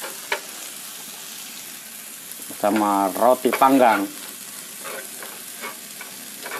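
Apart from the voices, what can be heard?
crickets frying with toast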